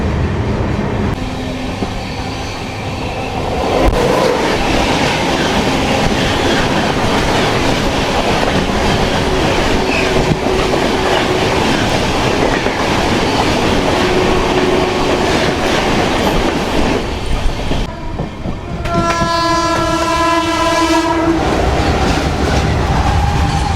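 Narasapur–Tirupati weekly express, train 17428, rolls across the Krishna river bridge near Prakasam Barrage, a loud steady rumble and rattle of wheels throughout, with a sustained horn-like tone rising near the end.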